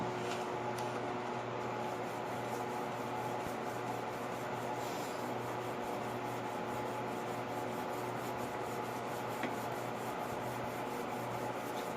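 Hand sanding with sanding fluid, a continuous wet rasping rub with back-and-forth strokes, close and steady, over a faint constant hum.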